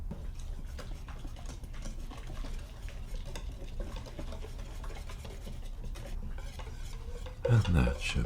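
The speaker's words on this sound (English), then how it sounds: "Whisk, whisk, whisk, whisk." Soft, steady whisking scrapes inside a bowl in a quiet ASMR cooking setting, a continuous low rhythmic stirring that ends with a brief louder clatter.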